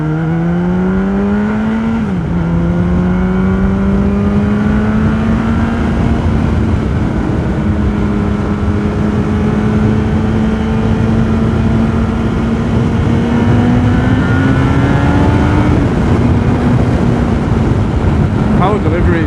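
A Yamaha R1 5PW sportbike engine pulls hard and loud, its pitch climbing smoothly through the revs with a brief dip at a gear change, heard close up with wind roar.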